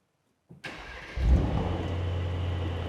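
A Mercedes-AMG GT engine cranks with a short whir, then catches and settles into a steady, smooth low idle with no exhaust fitted, heard up close with no talking.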